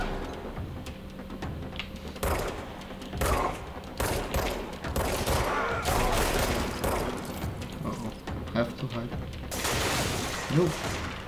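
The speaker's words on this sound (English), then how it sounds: "No! Shooting through the window." Gunfire from the video game Control, shots fired through a window, heard as dense, loud bursts of rapid shots and impacts with brief pauses, while a voice talks over parts of it.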